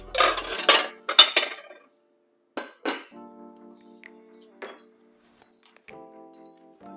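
A metal lid clanks onto a pot of salted rice and water in a kitchen, with several loud clattering knocks, then quieter clinks and rattles over a soft hum.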